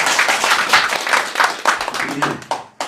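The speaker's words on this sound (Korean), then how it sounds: "박수로 환영해 주시기 바랍니다." A crowd at a party gathering of the Our Republican Party in Korea claps in welcome for a newly recruited member, giving a brisk, fairly close round of applause that tapers off within a few seconds.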